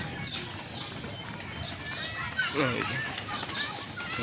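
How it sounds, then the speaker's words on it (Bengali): Several bursts of wing flapping from pigeons entering a nest in a tree, scattered across a few seconds with faint chirps and background noise. "এক এক করে ঢুকতেছে কবুতরগুলো"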